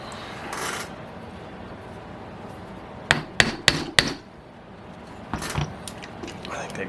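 Four sharp knocks of wood being struck to free a stuck part of a disassembled OS FS-120 Surpass model engine, landing in a quick cluster mid-clip over faint background noise, with a softer knock or two later.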